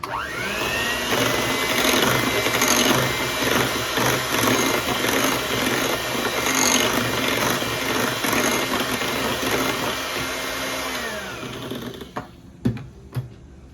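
Electric hand beater whirring steadily through curd and oil for vanilla sponge cake batter, a continuous motor drone with rattling against the bowl that runs about twelve seconds, then stops with a few clicks.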